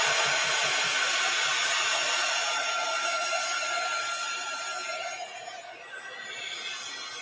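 Heat tool blowing continuously over thick gesso on a craft project, a loud steady whooshing roar that dips briefly near the end, close up with no talking.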